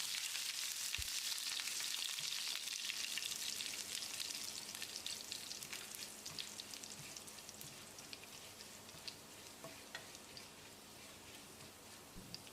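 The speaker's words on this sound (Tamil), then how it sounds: "இப்போ ஸ்டவ் ஆஃப் பண்ணிவிட்டு ஒரு 10-20 செகண்ட் பிரட்டி விட்டுறலாம்." Cumin, crushed garlic and curry leaves stirred in hot oil with the stove switched off, a dense crackling sizzle that gradually fades as the pan cools, close and without talk.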